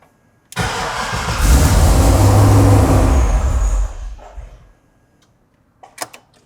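An LS V8 engine swapped into a BMW X5 cranks and catches, running loud and uneven for a few seconds while failing to idle before dying out, followed by faint clicks.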